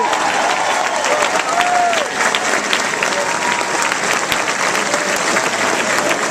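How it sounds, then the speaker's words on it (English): Dense crowd applause at a political victory rally for a congressman, sustained and full throughout with a few voices calling out beneath the clapping. "Please give a round of applause for our Congressman, Mike Tassel."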